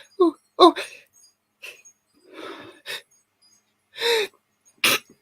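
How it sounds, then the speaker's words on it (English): A few short, sharp bursts of breath and nasal noise, scattered between quiet pauses, close to the listener, ending in a sudden sneeze-like burst. "I felt that sneeze coming on"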